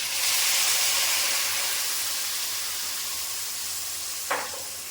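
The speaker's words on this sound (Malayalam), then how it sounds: "നമുക്കിതിലേക്ക് നമ്മുടെ ശർക്കര പാനി ഒഴിച്ചു കൊടുക്കാം" Jaggery syrup poured into a pan of cooking green mango curry, giving a steady broad hiss and sizzle throughout, with a brief splashy burst near the end; no one speaks.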